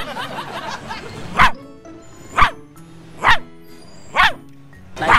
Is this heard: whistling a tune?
no